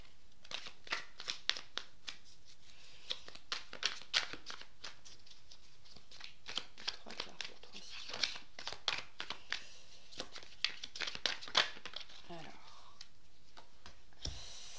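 Tarot cards being shuffled and drawn for a reading, giving a rapid run of soft, crisp card flicks and snaps through the whole stretch, with a few louder slaps near the end and a faint voice in the background.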